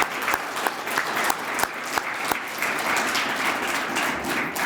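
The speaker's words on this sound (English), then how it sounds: "if we could get a round of applause for our amazing student performers" Audience at a 100th anniversary celebration applauds student performers, a dense, steady wash of many hands clapping with a few sharper individual claps standing out, sustained throughout with no talk.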